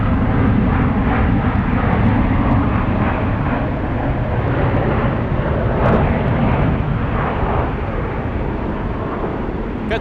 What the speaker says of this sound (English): JetBlue 115 touching down right now, slowing down on the parallel runway.